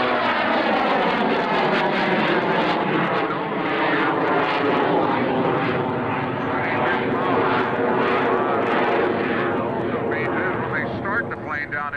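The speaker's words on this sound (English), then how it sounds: "the Pratt engine, the 450 horsepower engine, wide open and throttles the jet back and forth" Pratt & Whitney 450 hp radial engine and jet of an aerobatic airshow plane at the 2003 Dayton airshow, roaring loud and close at full throttle, a steady droning growl with rising and falling surges as the jet is throttled.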